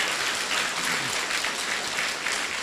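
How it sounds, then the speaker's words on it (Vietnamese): A seated audience at a Buddhist dharma talk breaks into steady, dense applause that carries on unbroken, a close, even wash of clapping hands. "người ta vỗ tay"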